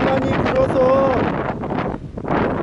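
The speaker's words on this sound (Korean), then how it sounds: "바람 소리가 너무 많이 들어갈 것 같으니까" Strong gusty wind buffets the microphone at a fishing pier by a harbour, a loud rumbling roar that swells and dips over a couple of seconds.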